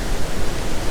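Iguazu Falls thunders close by, a dense, unbroken roar of falling water filling the whole short stretch with constant loud rushing noise.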